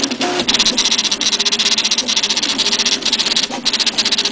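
A DIY 3D printer running Marlin firmware prints a zigzag infill pattern, its stepper motors giving off a rapid, rhythmic buzzing chatter that pulses back and forth at a steady pace, close and fairly loud.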